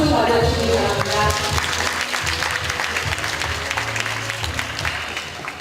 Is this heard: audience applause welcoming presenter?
yes